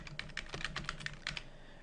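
Keys clatter in quick, irregular strokes on a computer keyboard while text is typed into Illustrator CS6, close and fairly quiet, with no voices.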